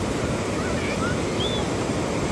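Sea waves wash continuously onto a Cornwall beach on a hot day, a steady broadband roar of surf with wind noise buffeting the microphone and no break in the wash.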